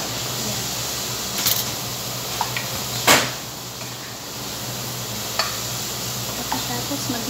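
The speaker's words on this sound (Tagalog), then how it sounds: "Tapos mag-ibusa lang po tayo ng onion, garlic, tapos mag-add tayo ng tomato, tapos tomato paste." Onion and garlic sautéing in a pan for a shrimp curry biryani, a steady broad sizzle with a few sharp clatters of a spoon or utensil, one louder knock near the middle, no talking.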